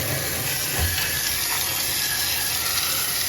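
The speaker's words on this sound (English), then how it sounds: "Now I'm hitting it with blazing hot water." Blazing hot water pours and splashes steadily over a part from a 6.4 engine during cleaning, a loud continuous gushing rush like a running tap.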